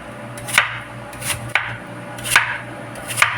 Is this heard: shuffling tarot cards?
no